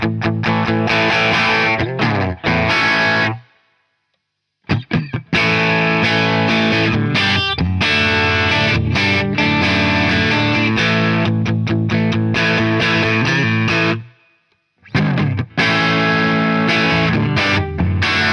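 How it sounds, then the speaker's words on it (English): Heavily distorted electric guitar chords from a Harley Benton Fusion-T HH guitar through a Marshall SV20 amp, played loud, with two brief silent pauses between phrases. "let's plug it in to the SV20 and get some classic rock tones"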